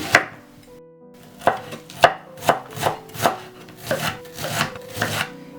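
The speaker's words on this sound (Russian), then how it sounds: "И топориком сейчас мелко рублю." Half an onion being finely chopped with a small hatchet while preparing kefir pirozhki: a dozen crisp, close chops, sparse at first, then settling into a steady rhythm of about two per second.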